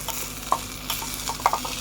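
Small spoon stirring a miniature egg curry in a tiny toy-sized pan, a soft continuous sizzle broken by a few light scraping clicks near the middle and end, close and quiet.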